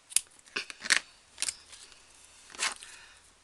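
Scissors make a few crisp, close snips through material, irregularly spaced short cuts with quiet gaps between them while a small fabric rose is being made.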